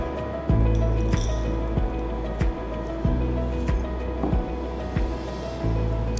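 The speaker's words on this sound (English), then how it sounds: "I am adding this mixture in the beaker." A mixture of sand, common salt and ammonium chloride is poured into a glass beaker, giving soft gritty patter and a few light glassy clinks, close by, over a steady low hum.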